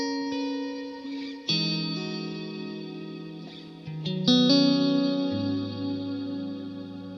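Sustained guitar chords through a Meris Mercury 7 reverb pedal, notes changing every second or two with lush, shimmering tails that linger and blend between chords.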